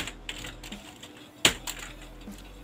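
Arduino code is typed on a computer keyboard as soft, irregular key clicks close by, with one sharper, louder tap midway and a quiet background hum.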